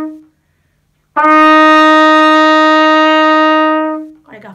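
A trumpet holds a steady F (fa) note for about three seconds in a scale lesson, loud and close with bright harmonics, preceded by a short earlier note and followed by a brief voice.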